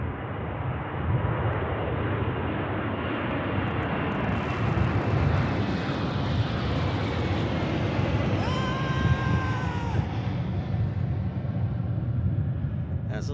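A FedEx Boeing 747 climbs steeply after takeoff from Memphis International Airport, its engines a loud continuous roar that swells and slowly fades into the distance, with a faint whistling tone near the end.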